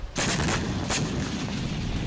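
Night-time Israeli airstrikes on the town of Aita al-Shaab in southern Lebanon produce two heavy, booming blasts close together, followed by a loud, rumbling roar that carries on.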